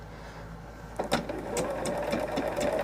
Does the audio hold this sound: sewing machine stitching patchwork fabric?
yes